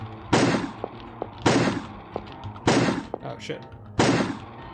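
Four heavy gunshots in the video game The Crooked Man, spaced roughly a second apart, each a loud blast trailing into a short decay, with a brief spoken reaction in between.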